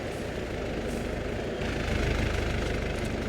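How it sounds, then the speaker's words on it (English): A tractor engine idling in a farming game, a steady low rumbling drone that swells a little louder partway through and holds, close and alone. "Let's shut the tractor off."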